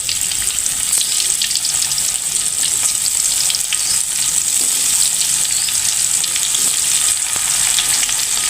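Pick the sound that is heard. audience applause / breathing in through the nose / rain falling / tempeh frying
tempeh frying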